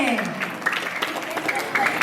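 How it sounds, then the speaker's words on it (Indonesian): Audience applause for a grade 1 class's end-of-year performance, brief and moderately loud with overlapping voices and chatter. "Kita berikan tepuk tangan yang meriah untuk teman-teman kelas 1E"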